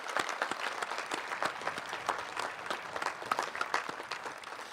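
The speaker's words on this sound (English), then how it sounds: "could we just give them another round of applause for their dedication?" Moderate, fairly distant applause from a crowd at a school district graduation ceremony, with individual claps audible and continuing steadily throughout.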